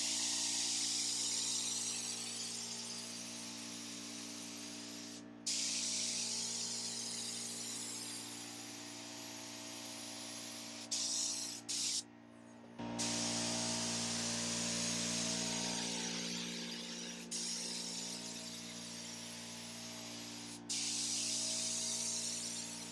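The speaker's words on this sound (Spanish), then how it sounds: "aquí le vamos a echar 3 capas de primer" A steady hiss of spray primer onto a used car bumper runs in long bursts, with brief pauses between passes, close and continuous over a low background hum.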